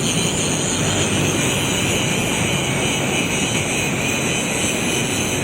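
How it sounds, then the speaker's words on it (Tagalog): Loud, steady engine drone of a tugboat on the Pasig River near esplanade construction work, a continuous broadband rumble with no breaks, close and dominant throughout. "Grabe, lakas ng ano talaga no, ng tugboat."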